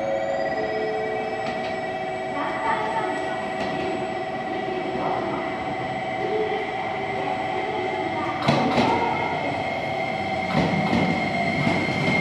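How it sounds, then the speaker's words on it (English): A train at JR Kurume station in Kyushu, Japan, which also has a Shinkansen platform: a steady low rumble with a sustained tonal whine and a few sharp metallic clanks near the end, fairly close, with no talking. "One more train."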